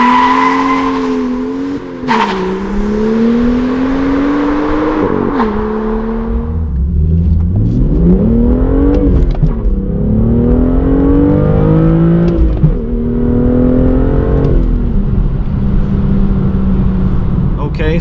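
A BMW M2 LCI accelerates hard from a standstill with wheel spin, tires squealing as the engine revs rise and fall through several gear shifts, loud and close throughout.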